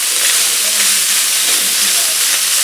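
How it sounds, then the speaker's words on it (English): Cut-up bacon pieces sizzle in a frying pan, a loud, continuous hissing crackle that stays steady and close from start to finish. "Now we're just going to let that sizzle."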